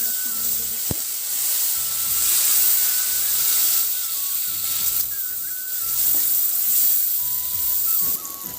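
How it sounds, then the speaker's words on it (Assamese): Masala spices simmering with a splash of added water in a pan for chicken and veg pulao, giving a steady loud sizzle and hiss that runs alone throughout, with a few faint clinks of a utensil. "এতিয়া মই ইয়াত মছলাখিনি ভালদৰে সিজিবৰ কাৰণে অলপ পানী দি দিছোঁ।"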